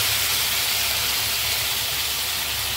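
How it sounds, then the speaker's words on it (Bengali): Marinated, battered chicken tipped into a dry kadai with no oil, giving a steady, loud broadband sizzle and hiss that holds evenly throughout with no voices. "দেখো আমি এবার এই ব্যাটার চিকেনটা আমি টোটালটাই কড়ার মধ্যে দিয়ে দিলাম।"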